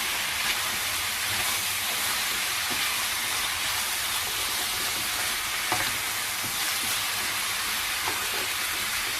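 Whole peppercorns being stirred in a hot cooking pan with oil for chicken caldereta, giving a steady, close sizzle with occasional soft scrapes and taps.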